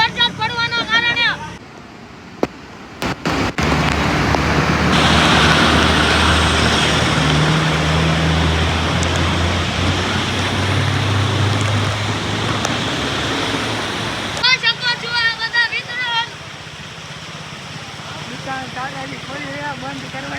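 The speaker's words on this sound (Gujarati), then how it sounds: "જોરદાર બોટાદની માર્કેટમાં વરસાદ પડવાના કારણે" Heavy rain pours down on the market in Botad, Gujarat, as a dense, loud, continuous roaring wash; people talk over it at the start and again near the end.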